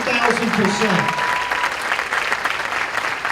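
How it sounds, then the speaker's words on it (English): Audience applause for veterans at a live, in-person gathering in Northport: steady, dense clapping from a crowd lasting several seconds, with a voice heard briefly at the start over it. "Applaud these guys"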